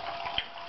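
Water runs steadily from a tap or shower while a dog is being bathed, a short close hiss of flowing water with no speech.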